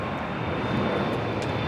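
An airplane roars at LAX airport, a loud, continuous broadband engine rumble that holds steady from start to finish without any talking.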